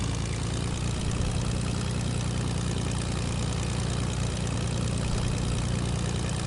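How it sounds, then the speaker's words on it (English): A plane engine in Fortnite runs in a steady, loud, unbroken drone, with a rapid propeller-like pulse throughout and no voices. "It automatically starts the engine."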